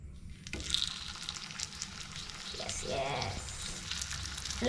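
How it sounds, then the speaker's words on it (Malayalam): Rice pathiri frying in hot oil, a continuous close sizzle that swells as the batter hits the oil and crackles steadily throughout, with no one talking. "അപ്പം ദേ നമ്മളുടെ എണ്ണയൊക്കെ ചൂടായിട്ടുണ്ട് ഇനി അരിപ്പത്തിരി ഇട്ട് കൊടുക്കുക"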